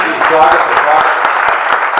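Audience applause fills a Hindi comedy poetry recital by a Haryana poet, a steady dense patter of many hands clapping for about two seconds, fairly loud and close, with faint voices mixed in.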